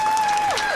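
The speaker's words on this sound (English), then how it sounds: "Hit us with the round of applause" Studio audience applause and cheering on a radio talk show, a short burst of crowd noise with a steady whistling tone running over it.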